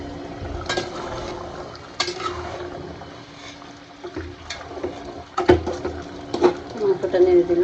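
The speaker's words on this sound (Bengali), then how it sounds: "মাংসটা নেড়ে দিলাম।" Meat for biryani being stirred in a pot, with intermittent clinks and scrapes of a spoon against metal and a soft sizzle, a person speaking over it.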